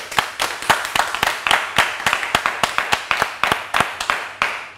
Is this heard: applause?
yes